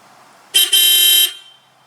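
A loud aftermarket HELLA Sharptones car horn on a 2008 Pontiac Vibe blares in one long blast, with a brief stutter near the start, then cuts off, leaving quiet.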